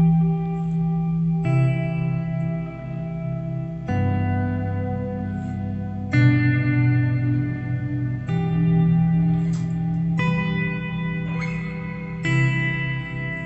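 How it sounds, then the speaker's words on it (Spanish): An electric guitar run through a reverb effect on a Headrush pedal plays sustained chords that change every couple of seconds, each one ringing out in a long, washy ambient tail, clear and alone without talk. "Ese tipo de reverb suena muy bien"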